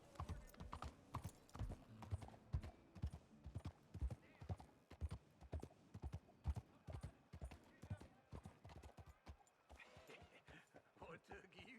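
Horse hooves galloping in Red Dead Redemption 2, a close, steady, rapid clip-clop rhythm that holds throughout, with a voice speaking over parts of it.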